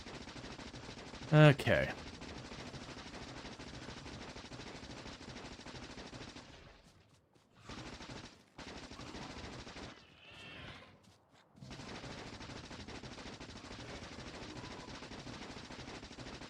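Gun turrets in the video game Factorio firing at bugs, a dense continuous rattle of rapid shots that cuts out briefly a few times, with a short louder burst early on and a voice speaking briefly.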